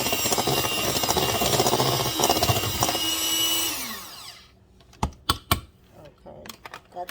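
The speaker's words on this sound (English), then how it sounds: "I'm going to mix all the dry ingredients up really well" Dry biscuit ingredients being mixed for homemade biscuits, likely by a small appliance, a loud continuous whirring drone that winds down after about four seconds, followed by a few sharp clatters and knocks.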